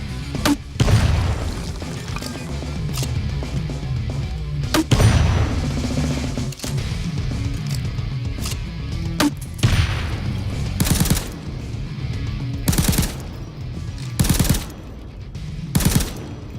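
Gunfire from the Little Friend rifle in the video game Payday 2 comes as loud, rapid bursts and single heavy booming shots, spaced unevenly over the stretch, with brief pauses and some quieter mechanical sounds between volleys.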